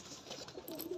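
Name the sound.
high flying pigeons cooing at farm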